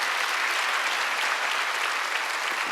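Steady, even clapping from a church congregation during a Sunday service, a continuous crowd of hands at moderate loudness with no break from start to end.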